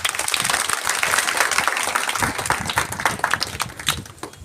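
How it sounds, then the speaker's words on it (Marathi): A hall audience claps at a college event in Jalgaon, a dense, loud burst of many hands with individual claps standing out, holding steady for several seconds. "जोरात टाळ्या वाजवूया आपण"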